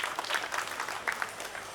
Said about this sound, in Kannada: ದೃಶ್ಯ ಮಾಧ್ಯಮದ ಮಿತ್ರರಿಗೆ ಮತ್ತೊಂದು ಜೋರಾದ ಚಪ್ಪಾಳೆಯನ್ನ ಕೊಡಬೇಕಾಗ್ತದೆ